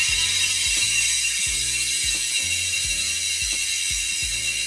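Industry Nine Hydra 2 bicycle hub with 870 points of engagement, its freewheel ratchet buzzing in repeated rapid bursts of clicking, close and fairly loud, each spin followed by a short pause, with a steady hiss underneath.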